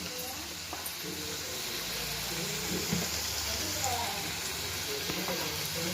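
Onions with curry leaves and salt sauté in a pan, giving a steady, close sizzle and hiss throughout with faint stirring clinks.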